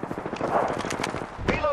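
Rapid automatic gunfire from Apex Legends rattles in quick, close bursts over about two seconds, mixed with a game character's voice calling out during the shooting.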